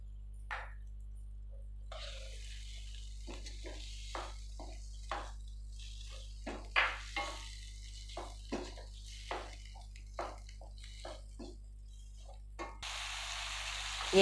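Spiced batter seasoned with salt and red chilli sizzles in a pan for a pizza pancake, a steady close fry broken by regular soft pops and crackles, with no talking.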